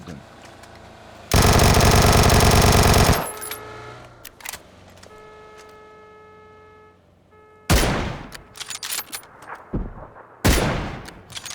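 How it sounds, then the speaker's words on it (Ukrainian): A burst of rapid automatic gunfire in PUBG, followed by a few sharp shots and clattering impacts, loud and close against quieter electronic tones. "По нам стріляють ззаді."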